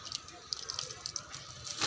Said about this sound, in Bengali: জল দিয়ে দেবেন চারিদিকে, মগে করে দেবেন না, অল্প অল্প অল্প করে দেবেন, ছিটিয়ে দিতে হবে